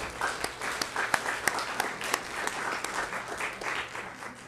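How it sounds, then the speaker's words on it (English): Audience at a Yucca Valley chamber forum breaking into applause, a dense, steady patter of many hands clapping at moderate distance for several seconds, without any speech. "How about another round of applause for everyone?"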